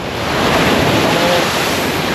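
Big ocean surf on a Nantucket beach, a loud continuous roar of breaking waves mixed with gusty wind buffeting the microphone.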